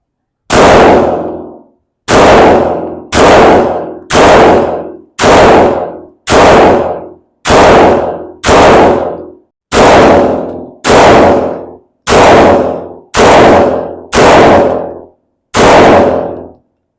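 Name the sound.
Grand Power X-Calibur Match MK23 pistol firing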